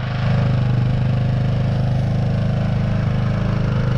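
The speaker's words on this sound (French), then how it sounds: "Bon, on a démarré le Zaberg, c'est presque trop facile. On a mis 5 coups de kick." A Zaberg motorcycle running just after a kick start, its engine idling in a steady, loud, close, rapid thumping drone with no speech.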